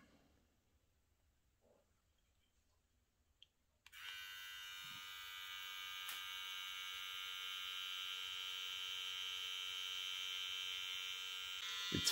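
A VGR V257 electric motor switches on after a few quiet seconds and holds a steady, high buzzing whine close by, running continuously to the end.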